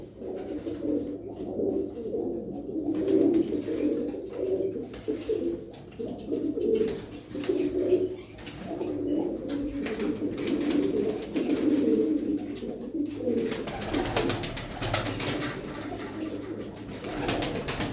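Tumbler pigeons, including a blue Ankara bird, coo in a loose flock in a rolling, repeated murmur that continues throughout, fairly close and steady.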